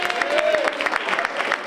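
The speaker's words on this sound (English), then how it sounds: "Let's give Mayor Rich Strand a round of applause." An audience at a women of color entrepreneur conference claps for a mayor in a brief burst of rapid, scattered hand claps, with voices mixed in.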